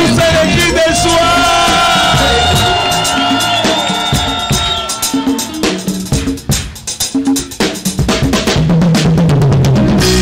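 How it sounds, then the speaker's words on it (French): A church congregation erupts in loud shouts and cries of joy, a dense crowd roar of yells and whoops over music that swells, then breaks into choppy bursts of cheering. "Est-ce qu'on peut pousser les cris de joie?"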